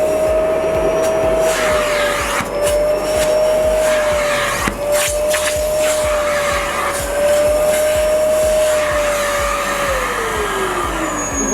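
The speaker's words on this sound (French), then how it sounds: "Vous voyez, quand j'aspirais, il n'y avait plus d'eau qui sortait." A wet vacuum draws water out of sofa upholstery, a loud continuous motor whine with a steady suction roar that holds for about ten seconds, then drops in pitch near the end as the nozzle lifts.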